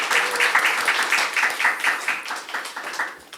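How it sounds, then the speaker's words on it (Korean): An audience at a Seoul National University policy forum applauds to welcome a speaker, with steady dense clapping that holds at an even level for several seconds and then starts to thin. "박수로 환영해 주십시오"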